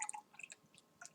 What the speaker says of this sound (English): if you can hear that, I'm pouring